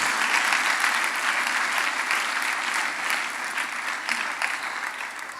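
A church congregation claps together during a sermon, a steady wash of applause that stays fairly loud and gently tapers toward the end.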